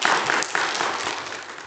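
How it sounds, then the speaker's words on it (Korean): Warm applause from a church congregation welcoming the pastor to the pulpit before a sermon, a brief, steady wash of clapping at moderate volume. "우리 목사님 나오실 때 큰 박수로 환영하겠습니다."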